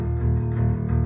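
Bass guitar picked with alternating down and up strokes, producing a quick, continuous stream of evenly spaced plucked notes, up close and alone.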